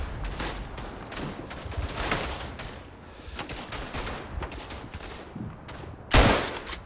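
Gunfire from the World War I shooter Verdun in the Vosges: scattered rifle and machine-gun shots crack through a busy battlefield din, with a loud close shot near the end.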